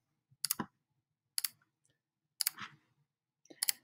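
Computer mouse clicks while selecting edges in Fusion 360 CAD software, four short separate bursts of two or three close clicks each, spaced about a second apart in a quiet room.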